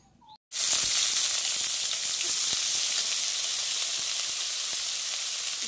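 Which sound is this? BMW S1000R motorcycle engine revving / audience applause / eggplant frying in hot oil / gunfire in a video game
eggplant frying in hot oil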